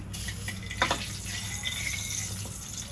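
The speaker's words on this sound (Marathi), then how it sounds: "इथे आपण ढोकळ्यावर फोडणी घालूया" Hot tempering poured over dhokla, a steady wet hiss and sizzle with a brief splashing burst early on, fairly close.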